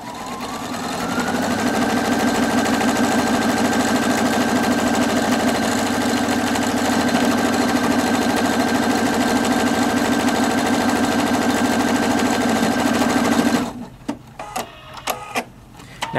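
Viking Opal 670 sewing machine automatically stitching a buttonhole, a loud, rapid steady motor whir with fast rhythmic needle clatter for over thirteen seconds, then stopping and giving a few short mechanical clicks as it locks and cuts.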